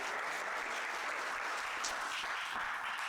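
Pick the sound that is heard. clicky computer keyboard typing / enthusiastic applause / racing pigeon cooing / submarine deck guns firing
enthusiastic applause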